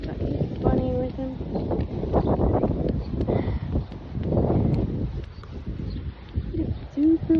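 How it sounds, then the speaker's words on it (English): Strong wind buffets outdoors, a steady low rumble and roar with gusts swelling and fading, while people talk faintly beneath it. "It's super windy"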